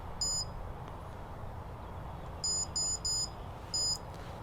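An iGPSPORT iGS630 cycling GPS computer gives short, bright electronic beeps as its buttons are pressed: one early, then a quick run of three, then another, over a low steady background hum.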